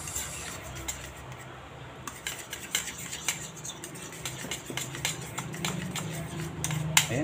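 Cauliflower pieces stirred into thick, sticky batter in a bowl, giving soft wet clicks and scrapes of a utensil against the dish, quiet and close, with someone talking at times.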